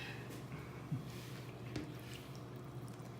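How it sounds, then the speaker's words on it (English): Hands work through cornmeal and water dough for Venezuelan arepas, pushing back and forth in a soft, quiet wet squish with faint drips and sloshes, close up and low in level. "We're gonna put our hands in, and first to begin with, we put one hand in and go back and forth like this."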